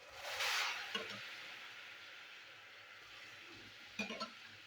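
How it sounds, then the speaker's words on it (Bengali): Hot water poured into a pan of fried spices and tomato paste for chana dal: a loud hissing rush at the start that quickly fades, followed by faint simmering and a few light clinks. "এবার দিয়ে দেবো গরম জল।"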